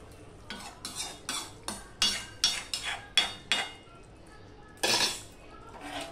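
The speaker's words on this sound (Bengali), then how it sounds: "আমি একটু নেড়ে দিচ্ছি, দেখতেই পাচ্ছ" A spoon scrapes and clinks in a pot of rui fish curry with potatoes and long beans, a dozen rhythmic strokes close up with brief pauses between them.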